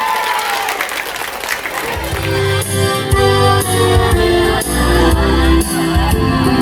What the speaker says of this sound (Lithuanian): Didžiuliai jums plojimai vieni kitiems